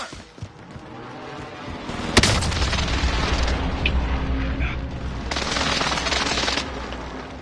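A precision airstrike in a Call of Duty match, with a sharp blast followed by a dense rumbling roll of explosions and crackling debris that swells again near the end, fairly loud and close.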